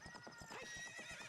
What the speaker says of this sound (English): Faster, horse, faster.